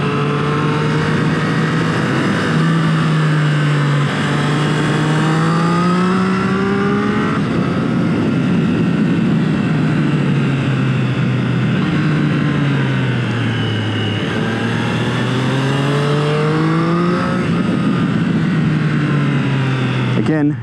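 Engine note of a 2021 Triumph Street Triple R motorcycle ridden slowly through corners, its steady drone rising and falling with throttle under continuous close wind and road noise.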